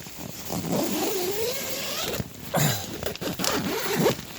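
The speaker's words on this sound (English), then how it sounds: "It annoys me when your zip gets stuck." A clothing zipper pulled in short rasping bursts outdoors on a wild camping trip, catching and snagging several times, close and fairly loud with no talk.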